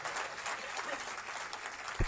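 An audience at the book launch of "The Great Enigma," about Sharad Pawar, claps steadily and evenly throughout, with a faint voice in the background and a single thump near the end.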